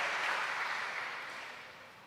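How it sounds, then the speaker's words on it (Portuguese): A church congregation applauding during a Portuguese-language sermon, a dense burst of many hands clapping that starts full and slowly fades away, with no voices over it. "Quem crê pode aplaudir o Senhor"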